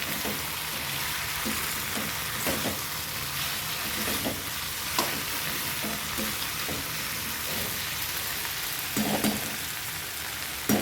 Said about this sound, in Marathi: भेंडी पण छान तेलाव मस्त परतून घ्यायची बघा बटाट्यासोबत